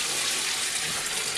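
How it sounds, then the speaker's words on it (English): Four liters of water pour steadily into the bucket of an ozone washer used for strawberries, a continuous close rushing splash with no pauses. "We add our 4 liters of water."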